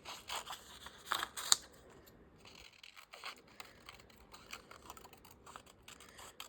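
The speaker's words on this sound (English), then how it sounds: "I think I want to fussy cut these guys" Scissors fussy cutting paper embellishments for tags, with crisp repeated snips and soft paper rustles close up and a few louder cuts early on, with no voices.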